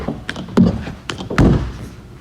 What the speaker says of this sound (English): There's a heavy door, and then just let down slowly.